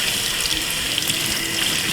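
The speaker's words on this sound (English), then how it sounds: "You want to make sure the water is clear. Wash it 3 times at minimum or as often as needed." Tap water runs steadily and close into a sink while cornmeal is washed, a continuous even splashing with no voices.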